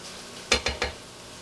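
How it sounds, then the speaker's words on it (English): Gluten-free spaghetti frying in a pan on high heat, with three quick stirring scrapes in a row over a faint background sizzle. "we're just going to continue to fry this up till it gets brown"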